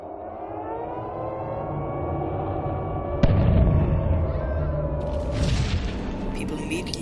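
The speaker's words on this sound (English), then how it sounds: "Air raid sirens would sound." An air raid siren sounds during the Blitz, a sustained rising and falling wail carried under a steady narrating voice, joined partway through by a sudden thump and later by brighter bursts of noise.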